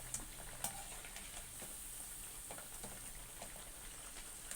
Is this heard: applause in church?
no